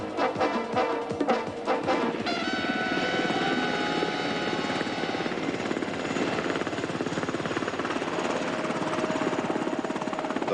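Black Hawk military helicopters at a landing zone, rotors beating in a loud, steady, close thump with a whining turbine tone above it, sustained throughout.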